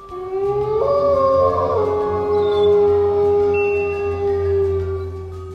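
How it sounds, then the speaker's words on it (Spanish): A long, loud, wavering werewolf howl sound effect rises and then holds for several seconds, with a second eerie tone sliding underneath, like a spooky wolf cry. "Un hombre lobo."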